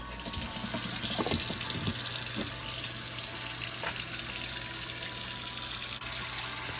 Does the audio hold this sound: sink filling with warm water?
yes